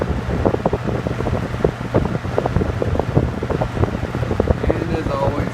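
A 1976 Toastmaster McGraw Edison 7327 Slim Line 20-inch box fan runs at turbo speed, a loud, steady rushing of air with buffeting gusts and low rumble throughout.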